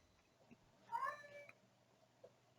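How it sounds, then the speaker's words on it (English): A cat meows twice in the background, one drawn-out rising call with a shorter mew close behind, faint against a quiet room with no talking. "No, it's a cat."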